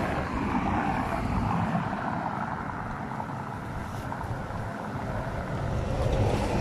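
Wind blowing outdoors on a warm, breezy day at a market area, a steady broadband rush buffeting the microphone throughout, slightly easing midway and strengthening again toward the end, with no talking.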